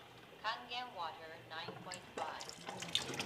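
Water from a Kangen water machine runs into a container, a steady splashing flow interrupted by gurgling surges, with speech heard faintly.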